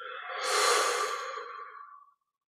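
A single long, deep exhale during a breathing exercise, airy and close, swells and then fades into silence after about two seconds.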